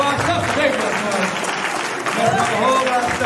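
Scattered audience clapping during a Nation of Islam lecture, a steady patter of claps that stays fairly loud over about three seconds, with a voice speaking over it.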